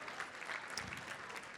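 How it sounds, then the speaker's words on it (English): Audience applause at a Chicago gala, steady dense clapping from a crowd filling the whole moment at an even level. "Let's give Juana a round of applause"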